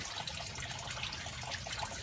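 Steady trickling and splashing of water flowing down through a PVC pipe in an aquaponics system, a continuous close-up wash of running water with no talk.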